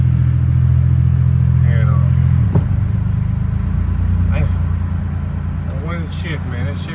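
A car running on a junkyard transmission idles and then drives off, its engine rumbling steadily with a shift change partway through, while someone talks over it near the mic.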